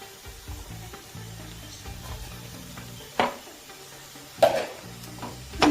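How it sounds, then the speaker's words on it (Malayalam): Potatoes are stirred into masala frying in a pan, with a steady low sizzle under scraping stirs and a few sharper clinks of the spoon against the pan, heard near and alone. "ഇതിലേക്ക് നമുക്ക് ഉരുളക്കിഴങ്ങ് ചേർത്തെടുക്കാം കേട്ടോ."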